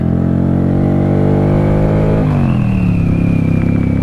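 A 1995 Honda Shadow VLX 600 V-twin motorcycle accelerating wide open, its engine note loud and close with rich rising harmonics, dropping abruptly on a gear change and then climbing again.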